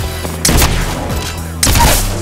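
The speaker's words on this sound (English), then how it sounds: "I'm getting shot." Two loud, sharp bursts of gunfire ring out in Apex Legends, about a second apart, each a short crack with a trailing rumble over ongoing game ambience.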